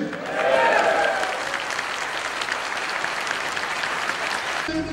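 A crowd claps at an AK Parti political rally in Bolu. The applause is loud and dense, swelling at the start and then holding steady until it cuts off at the end.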